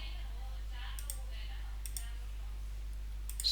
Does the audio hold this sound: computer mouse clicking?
yes